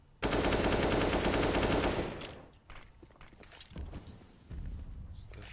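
Sustained automatic gunfire in Counter-Strike on the Cobblestone map during a competitive match, a dense loud burst for about two seconds, then scattered quieter shots and game effects.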